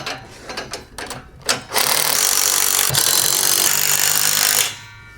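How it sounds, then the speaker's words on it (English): A 9/16 socket wrench tightens trailer U-bolts, first with a few short ratcheting clicks and rubs, then a sustained loud, rough ratcheting grind that runs for about three seconds before stopping abruptly. "Back to the 9/16 and tighten up these U-bolts."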